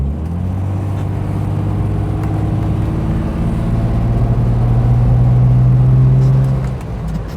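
A Ford Granada MK1 with an automatic gearbox pulls away slowly, its engine drone building steadily in pitch and loudness over several seconds before easing off at the end, heard close with no talk.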